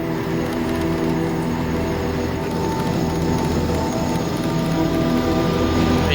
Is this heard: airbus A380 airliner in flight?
yes